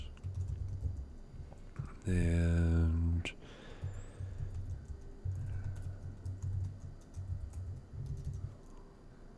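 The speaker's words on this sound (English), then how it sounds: "I've got a little bitty keyboard at home I keep typoing." Quick clicky keystrokes on a small computer keyboard, near and fairly faint, in short runs while someone talks intermittently over them.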